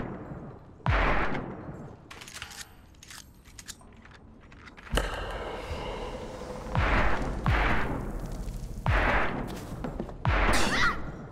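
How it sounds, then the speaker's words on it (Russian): Gunshots from a machine firing at the player in the horror game Perception: several loud, sharp blasts spaced a second or two apart over a low, rumbling background, with no speech. "Три выстрела."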